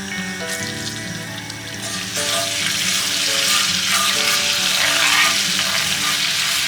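Coarsely minced garlic, two heaping spoonfuls, sizzles and crackles in hot oil for gambas al ajillo, a loud, close, continuous frying hiss that swells slightly as the garlic goes in.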